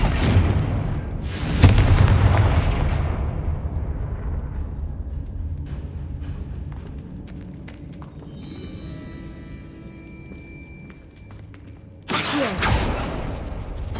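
Confringo fire spells exploding in Hogwarts Legacy, with heavy booming blasts that roll into long, rumbling decays. A second burst hits near the end, and a mechanical rattle sounds between the blasts.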